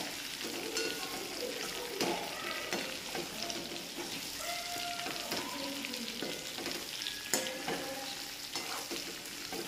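Sliced bitter gourd (karela) fries in hot oil in a pan, with a steady close sizzle and occasional stirring scrapes as it cooks down, no voices.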